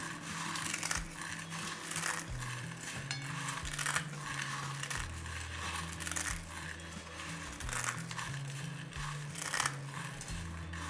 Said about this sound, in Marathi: आता हा चिवडा असा हाताने कुस करून घ्यायचा म्हणजे हा बारीक करून घ्यायचा